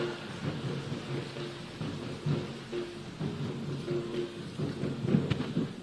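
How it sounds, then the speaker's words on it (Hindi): Applause from a large crowd at a public government ceremony in Jharkhand, a dense, continuous patter of clapping that rises and falls over several seconds. "जोरदार तालियों के साथ स्वागत।"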